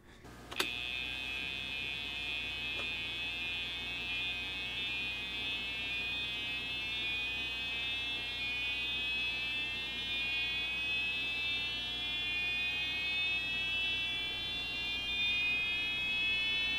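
An old PC's built-in speaker plays a continuous electronic buzzing tone rich in harsh harmonics, steady and fairly loud, after a brief click at the start and with no voices.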